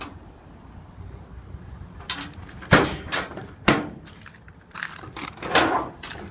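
A utility-bed compartment door on a 2005 Ford F350 diesel is handled: several sharp clunks and latch clicks, a couple of louder thumps of the door swinging open, close by and without talk.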